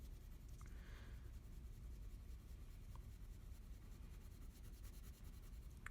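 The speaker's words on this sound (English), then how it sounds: "making our crayon marks even, right next to each other" A crayon rubs back and forth on paper in steady, even strokes, making a quiet continuous scratching with no talk.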